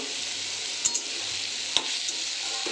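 Chopped leafy greens frying in a pan with salt and turmeric, a steady hiss of sizzling oil with a few sharp clinks of a spatula stirring against the pan, close and alone without voices.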